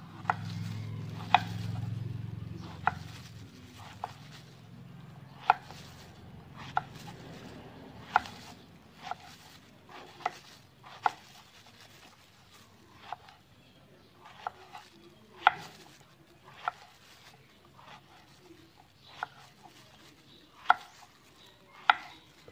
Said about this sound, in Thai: แล้วก็จะมาหั่นก่อนนะเจ้าหั่นซอยก่อนเนาะ